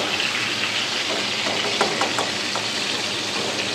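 Capsicum frying in hot oil in a pan for a Bengali hilsa dish, a steady, dense sizzle and hiss running throughout, close and fairly loud, with a few faint clicks and no talking.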